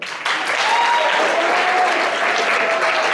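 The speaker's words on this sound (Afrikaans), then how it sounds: "Geef hom 'n hande klap." A school audience at Goudveld Hoërskool breaks into applause, a dense, steady wash of many hands clapping that starts abruptly and holds loud and even to the end.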